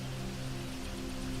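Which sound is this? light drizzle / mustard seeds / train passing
light drizzle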